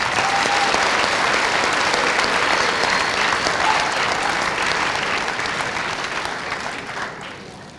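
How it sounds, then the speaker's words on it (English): A crowd claps enthusiastically in sustained applause, dense and even, slowly tapering off near the end. "Let's give Shirley a round of applause."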